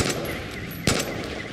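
Gunfire in Far Cry 5 during the zombie DLC: a loud, sharp shot bursts out near the end over a constant noisy game background, with a few fainter cracks earlier.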